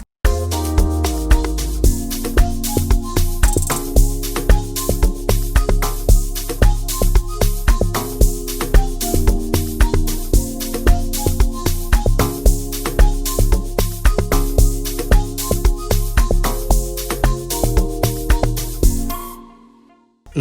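Amapiano beat built for Afrobeat artists, loud and continuous, with deep booming log drums, steady crisp hi-hats and layered chords driving a repeating groove alone for about nineteen seconds before cutting off.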